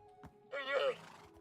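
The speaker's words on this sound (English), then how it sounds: "And the horses." One short neigh from a horse in the video game Minecraft, a quick rising-and-falling whinny, fairly quiet and heard alone.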